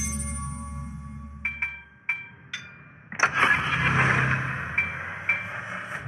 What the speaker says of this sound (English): Engine boost activated.